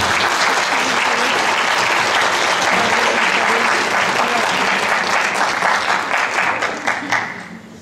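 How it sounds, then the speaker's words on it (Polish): An audience claps for the director at a high school Valentine's concert, giving dense, sustained applause that stays loud, then thins and fades over the last seconds. "Wielkie brawa dla pani reżyser."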